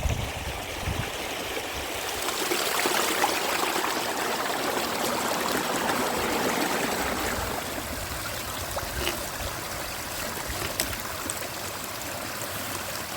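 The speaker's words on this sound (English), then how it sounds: "already it looks like a proper little river." A small hillside river in Dumfries and Galloway, near the Devil's Beef Tub on the Annandale Way, flows steadily with a continuous close rushing and trickling wash and no voices over it.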